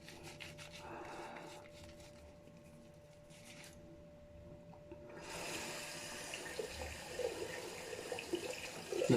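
Water runs from a tap as someone rinses off after shaving, a soft, steady splashing that stays faint and thins to a trickle, then swells louder as hands move through the stream.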